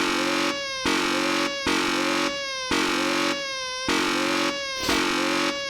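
A baby wails in repeated, evenly spaced cries, roughly six loud bursts separated by short breaths, from The Stanley Parable: Ultra Deluxe video game, with no talking over it.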